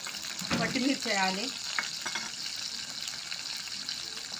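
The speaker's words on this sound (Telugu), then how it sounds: "బాండ్లీలో ఆయిల్ వేసుకొని స్టవ్ మీద పెట్టుకొని ఉల్లిగడ్డ వేయాలి, పచ్చిమిర్చి వేయాలి" Onions and green chilies frying in oil in a kadai on the stove for restaurant-style chicken 65, a steady close sizzle with a brief burst of louder crackle early on and faint voice-like tones over it.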